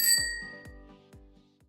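Bright bell dings sound effect, one sharp strike followed by three or four quicker, fainter rings in a short decaying sequence.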